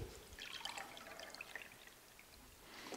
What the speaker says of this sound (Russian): Наливаю вам очищенную колу.